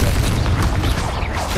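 A Confringo spell blast in Hogwarts Legacy on hard mode: a loud, dense fiery burst with a booming low rumble lasting about a second and a half, filling the mix.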